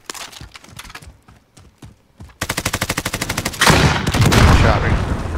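Rapid bursts of automatic gunfire in the Warzone battle royale game, loud and close, first as scattered shots, then a fast regular rattling volley that swells into a dense, sustained barrage.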